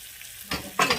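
Grated coconut roasting in a pan for sambar gives short bursts of sizzling and stirring scrapes, two quick rising crackles after a near-silent start.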